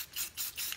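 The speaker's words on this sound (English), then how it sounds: "I took the gold and I'm gonna spray that." Gold spray paint hisses from an aerosol can in three short, even bursts close to the listener, with no voices.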